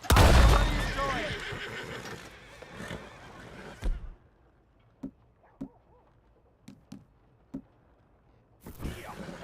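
A horse in the video game Red Dead Redemption 2 lets out a loud, close whinny at the start, followed by quieter hoof clops and faint sounds of movement.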